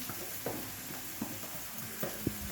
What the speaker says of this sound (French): on va mettre de l'huile et là, je vais mettre des aubergines